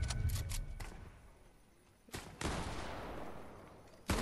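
Gunfire in the Fortnite video game during a squads match: bursts of shots at the start, then a louder extended volley with sharp bangs mid-clip and another hit at the end, with no talk.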